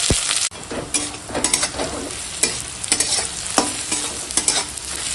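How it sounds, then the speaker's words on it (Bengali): Onion and green chili fry with bay leaf in hot oil, a loud close sizzle broken by repeated scraping stirs of a spoon against the pan. "এখন দিয়ে দিলাম তেজপাতা, ভেজে নেব পেঁয়াজ আর কাঁচা লঙ্কা একসঙ্গে।"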